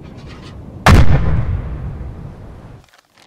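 A submarine deck gun in a video game fires a single loud, booming blast with a sharp onset and long rumbling decay, fading out over about two seconds; faint background noise before and after.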